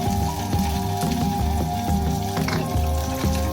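White oil sizzling in a kadai, a dense continuous crackle and spatter close by, heard alongside background music.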